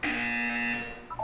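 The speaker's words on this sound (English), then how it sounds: "When you hear the buzzer, look down at the floor." A Portal 2 test-chamber buzzer gives one loud, steady electronic drone that holds for about a second, then cuts off into a short, softer tone.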